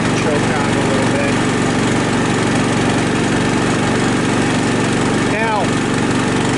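A Cub Cadet riding mower engine, long abandoned and tree-smashed, runs with the choke partly on, a loud, steady close-up drone with a brief whining sweep near the end.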